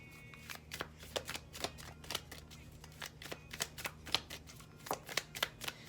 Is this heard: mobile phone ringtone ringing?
no